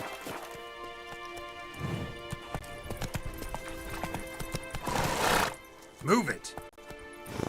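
Horse hooves clip-clop at a gallop while riding in The Witcher 3: Wild Hunt, a steady drumming rhythm with a loud neigh near the end and a voice calling out over the hoofbeats.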